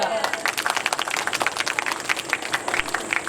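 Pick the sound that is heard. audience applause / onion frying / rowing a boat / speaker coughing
audience applause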